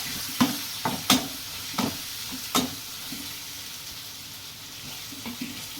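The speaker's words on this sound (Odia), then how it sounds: "ହଳଦୀ ଗୋଟେ ଚାମଚ, ଆଉ ଗୋଟେ କାଶ୍ମୀରୀ ଚିଲି ଗୋଟେ ଚାମଚ, ଆଉ ଟିକେ ଗରମ ମସଲା ଦେଇକି ଟିକେ ଭଲ ଭାବରେ ଟିକେ ମିଶାଇଦେବା" A spoon stirs turmeric, Kashmiri chili and garam masala in a pan, scraping in several sharp, irregular strokes over a steady low sizzle, close and moderately loud.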